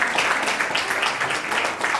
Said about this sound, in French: On l'applaudit, on l'applaudit, on l'applaudit.